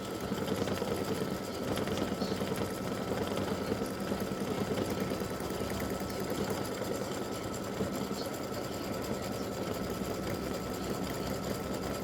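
A machine stitches a freestanding-lace butterfly earring with a fast, even, continuous whirring and rapid needle chatter, steady and close.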